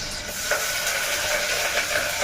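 Onions and spices frying for a tempering, a dense continuous sizzle close up with soft stirring scrapes throughout.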